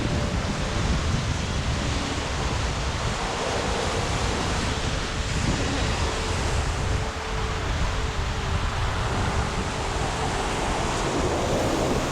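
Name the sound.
wind at a beach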